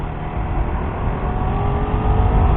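Suzuki GSX-R150 motorcycle on racing tyres accelerating at full throttle, a dense, steady engine drone rising slightly in pitch and loudness, close and continuous with no talk.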